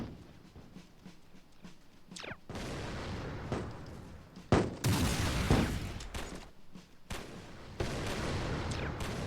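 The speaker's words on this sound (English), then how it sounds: "Keep shooting it!" Gunfire in the toy battle game Attack on Toys as shots are aimed at a plastic tank, with repeated loud bursts and booms in quick succession, some sharp cracks standing out over a busy game soundscape.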